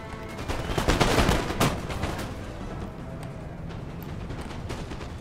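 Musket volley fire in the strategy game Empire: Total War, a dense burst of overlapping gunshots swelling early then settling into a steady crackling battlefield din, heard alone without talk.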